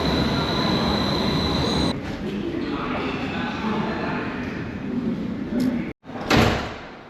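A Berlin U-Bahn U3 train stands at the platform with a steady loud hum and rumble, then a sharp break as doors slide and clunk near the end.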